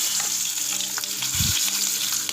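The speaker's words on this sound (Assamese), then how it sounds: "এইখিনি অকণমান ৰঙচুৱাকৈ ভাজিলোঁ" Steady hiss of onions frying in a hot pan, with a brief low stirring bump midway; continuous and close, no voices.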